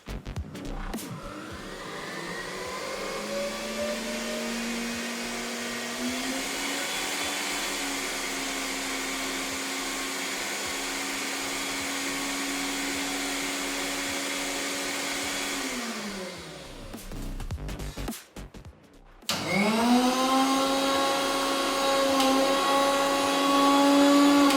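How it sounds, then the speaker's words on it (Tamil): A 650 W kitchen mixer whirs steadily for about seventeen seconds, winds down and stops, then an Agaro 1000 W blender starts up louder with a higher, brighter motor whine, both heard alone. "ஸோ இந்த மிக்ஸிக்கும் இந்த அகாரோ பிளெண்டருக்கும் நாய்ஸ் லெவல் எப்படி இருக்குங்கிறத கம்பேர் பண்ணி பார்த்துடலாம்."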